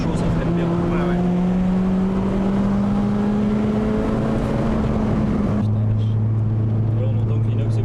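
Boosted homemade Peugeot 206 RC with a hot stainless exhaust, droning steadily while driving, its tone rising under acceleration then dropping to a lower steady note near the end. People talk over it.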